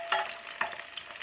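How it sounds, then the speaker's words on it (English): Minced garlic sizzles quietly in olive oil in a pan, with two brief stirring scrapes cutting through the soft, steady frying hiss. "sizzling a little bit."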